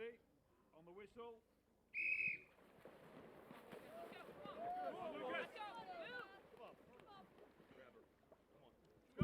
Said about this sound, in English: We hand you over to our referee, Mr. Darren Sadler. Ready? On the whistle